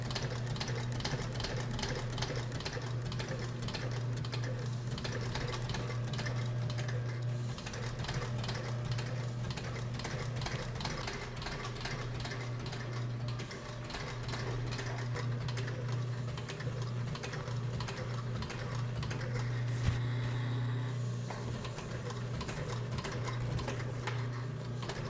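A sewing machine stitches a leather saddle in a continuous rapid mechanical chatter with a steady motor hum, close and loud, running without pause.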